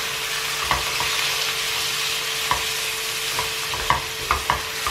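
Garlic and ginger frying in a pan, with a continuous close sizzle and intermittent sharp taps and scrapes from a spoon as they are stirred, and no voices.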